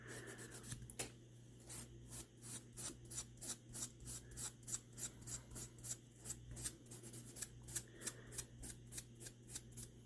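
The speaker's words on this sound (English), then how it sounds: "I like it better than sandpaper for this because it tends not to leave lines because it's basically steel wool type texture" A steel wool type abrasive pad scrubs rhythmically along the blade and tang of a camp knife, quick repeated rasping strokes about twice a second, close and steady with no talk.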